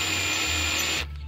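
Power drill driving a screw down snug while replacing a throttle position sensor on a 2004 Honda Accord inline-four; one steady close whir that cuts off abruptly near the end, with no talking.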